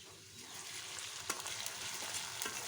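Ginger garlic paste hitting browned onions in a hot pan, a continuous bright sizzle with a few sharper crackles and stirring scrapes, close and fairly quiet, no talking.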